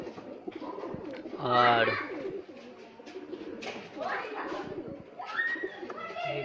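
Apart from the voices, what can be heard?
pigeons cooing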